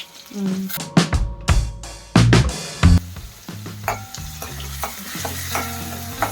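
Onion, garlic and asafoetida drop into a hot pan of oil and fry, with sharp bursts of sizzling, clanks of the utensil against the pan, and a softer steady crackle afterward, close up.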